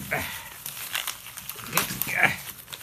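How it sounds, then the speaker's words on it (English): Newspaper and a plastic bag wrapped around a lot of comic books are pulled open in close, irregular bursts of crinkling and rustling, with a person talking between the handling sounds. "They wrapped it up in newspaper, and then inside of a plastic bag."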